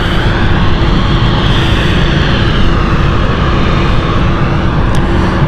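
Swiss passenger jet's engines roaring loud and close, a dense steady rumble with a faint tonal whine running through it, continuous for several seconds without talk.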